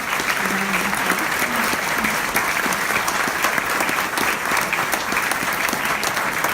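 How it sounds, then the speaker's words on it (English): An audience claps steadily for an author at a book talk event, a dense, even wash of applause that fills the room without pause. "give our author and Robert a round of applause"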